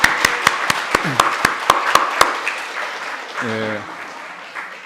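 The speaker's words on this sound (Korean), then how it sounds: "우리 영화 형제 박수 한번" A church congregation at a Sunday service gives a brother a round of applause: a run of crisp, evenly spaced claps that trails off into quieter room sound and a brief voice.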